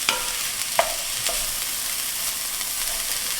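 Beef and cabbage stew cooking in a pot, a soft, steady sizzle and bubbling with a few clicks and light clinks of stirring, close and alone with no talk.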